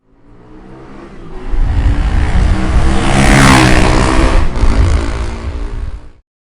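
A motorcycle engine revs up and roars loudly as it passes close by, swelling from a low rumble to a peak midway before cutting off abruptly, with no other sound.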